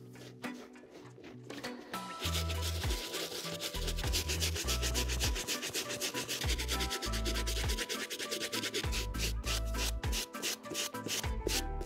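A medium bristle brush scrubs a Union Jordan 1 Chicago Shadow sneaker, with close, loud, continuous rhythmic scrubbing strokes after a quieter start and no talking.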